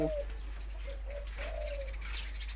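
A spotted dove gives a few soft, low coos in a short series, faint against steady background hiss and a low hum.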